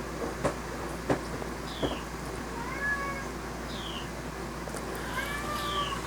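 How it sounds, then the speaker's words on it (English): Two loud pet cats meow repeatedly at dinner time, several drawn-out rising cries spaced across the stretch over a steady low background hum, with a few soft knocks; no talking. "I've got 2 very, very loud cats."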